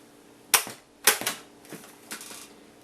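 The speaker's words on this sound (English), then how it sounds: "Just load these brass-tipped cartridges in, like so." Brass-tipped cartridges click and snap into a steampunk Nerf blaster, four sharp mechanical clicks spaced about half a second apart, close up in a quiet room.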